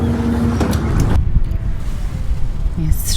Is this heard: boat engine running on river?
yes